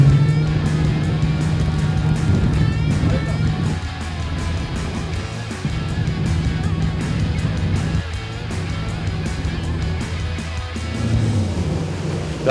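A motorboat runs fast across the water, its engine droning loud and steady up close with rushing water and wind noise, the pitch dipping briefly a few times as the throttle shifts.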